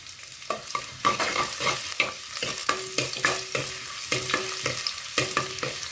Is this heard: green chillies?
yes